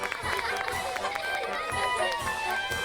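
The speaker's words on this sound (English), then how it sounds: "Thomas listened to the children, laughing and cheering." Children laughing and cheering together, a lively crowd of young voices with a steady bustle under a narrator's talk.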